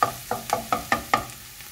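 Onion and garlic being stirred and sautéed in a pan, six or seven evenly spaced scraping, tossing strokes of a utensil over a soft sizzle, close and moderately loud with no talking.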